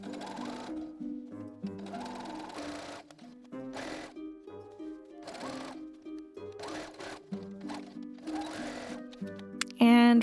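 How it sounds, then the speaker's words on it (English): Sewing machine stitching the side seams of a six-panel skirt for a Halloween witch dress, close repeated bursts of whirring with short pauses between runs. "I stitched my side seams of my skirt panels"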